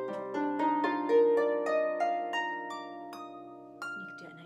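Harp plays the slow ending of a song, plucked notes ringing and overlapping before settling into a sustained jazz chord, with a final low pluck near the end; clear and close, without voices.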